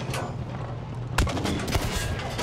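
Gunfire in the Battlefield 5 video game, a burst of rapid sharp shots starting midway over steady background rumble, loud and close with several cracking reports in quick succession.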